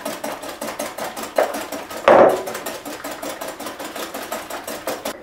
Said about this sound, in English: give that a quick whisk. I want to whisk that until it becomes